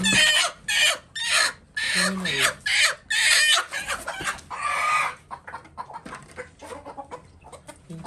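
Broody hens sitting on eggs in a nest cluck in repeated loud, bursty calls close by, with a rooster crowing faintly amid the flock; the clucking fades to softer scattered sounds toward the end.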